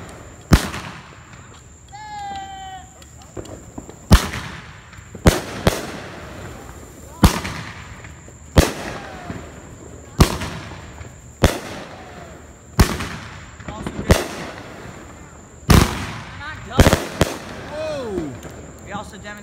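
A Happy Trails 500 gram firework cake by Big Thunder Fireworks going off outdoors, a regular series of loud sharp bursts and pops about a second apart, with whistling tails early on and voices between shots.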